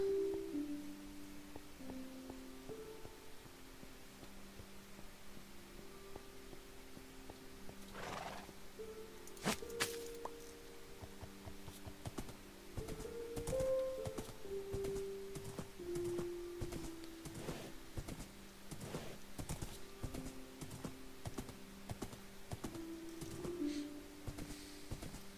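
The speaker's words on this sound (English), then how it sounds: "Gotta go grab my horse." A horse in the Minecraft video game gives a faint neigh and a few soft hoof clops over quiet, steady tonal game sounds.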